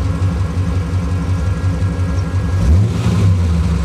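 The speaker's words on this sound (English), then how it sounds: "the engine is well and truly on working temperature now." A 1948 Allard M1 drophead coupe's engine runs steadily at working temperature, a close, even mid-pitched thrum with a slight lift in revs near the end, alone with no talk.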